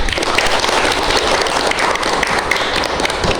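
Dense, steady applause from a school group fills the whole stretch, many hands clapping at once with no pauses.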